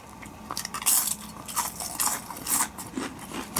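Crisp, irregular crunches of someone biting and chewing Orion Gamja Sanmaek black pepper and salt potato chips up close, quiet between bites, with no one speaking.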